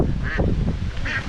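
A duck at a natural fish pond gives two distinct quacks about a second apart, close by, over a steady background rumble.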